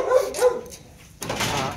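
Puppies pester and jump on adult dogs, producing a short burst of near, fairly loud barking and whimpering over roughly two seconds.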